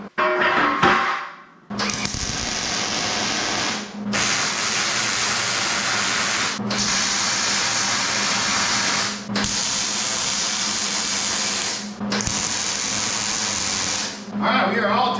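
Rectangle tubing is tack welded for a flatbed in a series of loud, sustained hissing bursts of a few seconds each, separated by brief pauses, with a short spoken remark at the start.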